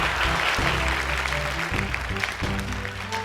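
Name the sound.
applause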